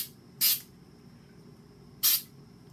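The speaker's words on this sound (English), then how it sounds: "So, I'm gonna spray." Two short, sharp hissing bursts from an aerosol spray-paint can in a kitchen, separated by a pause of over a second, close and fairly loud against a quiet room.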